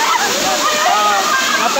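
Kawit Falls, a shallow waterfall in Barangay Siay, San Miguel, Catanduanes, Philippines, pours in a steady, loud, broadband rush of splashing water that fills the whole stretch, with a voice talking over it.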